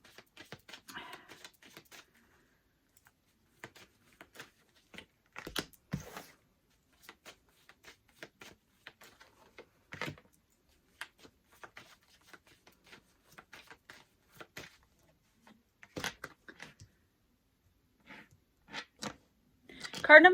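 Oracle cards being shuffled by hand, heard as scattered soft riffles and taps in short bursts across the stretch, quiet and close with gaps between, building to a louder flurry at the end.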